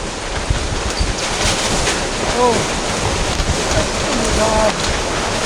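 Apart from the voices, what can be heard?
typhoon wind and water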